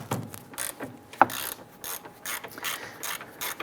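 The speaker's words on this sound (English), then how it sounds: "we're going to go ahead and use our 13mm socket and disconnect, loosen this nut here" A ratchet on a 13mm socket clicks in quick repeated bursts while loosening a hose nut on an A/C condenser line of a 2002-2008 Dodge RAM, close and fairly faint, with one sharper metallic knock partway through.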